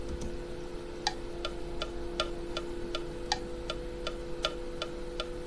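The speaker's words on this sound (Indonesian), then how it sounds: "temponya atau metronomnya itu bentuk bunyinya seperti ini" A metronome ticks at an even, moderate tempo, about a dozen sharp clicks, with some beats slightly louder, over a low steady hum.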